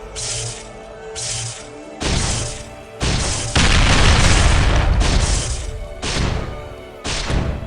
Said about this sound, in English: Now, I like to click challenge and then use the missile launcher.